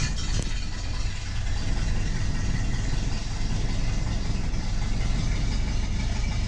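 A 1930 Ford Model A engine idles steadily just after a cold start, following months of sitting and a carburetor rebuild, a loud, continuous low rumble with an even mechanical chug throughout and no talking.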